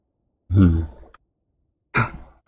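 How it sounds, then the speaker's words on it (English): Two breathy human yawns, a longer drawn-out one followed after a pause by a shorter one, close and fairly soft. "Sorry, it's like late, so I'm yawning a bit."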